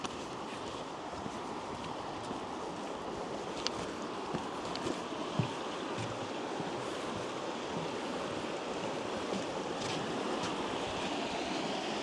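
Steady broadband rushing of river water flows continuously at a river crossing in rural Wales, with faint wind and a few soft knocks.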